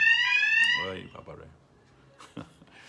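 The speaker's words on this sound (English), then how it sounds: "We had to make this integrated fire alarm system when we refurbished the temple." An integrated fire alarm system in a refurbished temple gives a loud electronic tone for nearly a second, then cuts off, leaving someone talking and some faint room noise.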